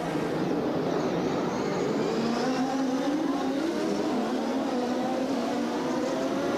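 A pack of IndyCar race cars accelerates hard away from the green-flag start at the 1993 Surfers Paradise street race in Australia, engines blending into a sustained, rising roar with shifting pitch and no gaps.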